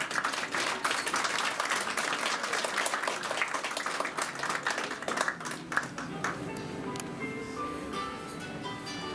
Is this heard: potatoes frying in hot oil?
no